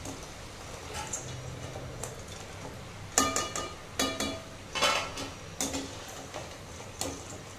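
Crispy fried ragi mullu murukku pieces being set onto a plate, giving a run of sharp, brittle clinks and rattles, with several distinct crunchy clatters clustered in the middle and fading to lighter taps, no talking.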